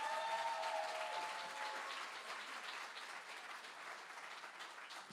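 Audience applause at a church gathering: a fairly modest, steady wash of many hands clapping that fades slightly over five seconds, with a faint tonal hum early on and no voices.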